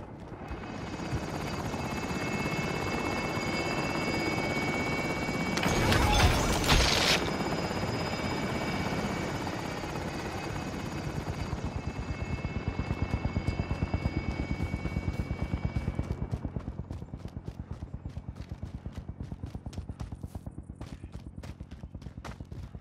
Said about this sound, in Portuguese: Helicóptero em posição para o depósito.